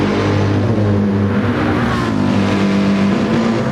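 Race cars dueling nose to tail on track in Gran Turismo 7. Loud, continuous engine roar with close, steady revving and no pauses, no voices.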